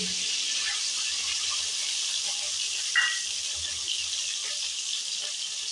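Chopped tomatoes and soaked raw chickpeas hit tempered oil in a pan, giving a steady, broad hiss of sizzling that holds evenly throughout, with a brief sharper splutter midway and no talking.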